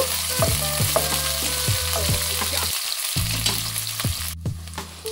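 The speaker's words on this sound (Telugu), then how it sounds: "కొంచెం కలర్ చేంజ్ అయ్యే వరకు వేయించుకోవాలి ఉల్లిపాయ." Sliced onions and green chillies frying in hot oil for a vegetable stir-fry, a steady close sizzle broken by repeated scraping stirs, with one brief pause when the pan goes quiet.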